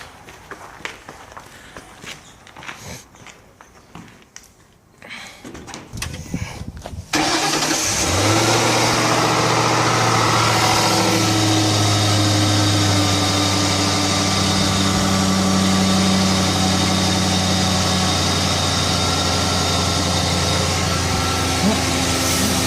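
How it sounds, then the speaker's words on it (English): A Ford Crown Victoria engine cranks and catches after some faint handling noises and footsteps, then settles into a steady, loud, close idle that runs on unbroken. "I'm just going to turn the engine on"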